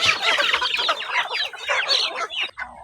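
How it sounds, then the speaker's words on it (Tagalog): Rhode Island and Brahma chickens cluck and chatter continuously at close range, a dense, busy flock sound over a few seconds with no talking. "Magpakain tayo sa ating mga alagang manok"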